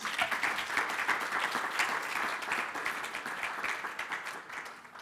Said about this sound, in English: Can you give them all a round of applause, please?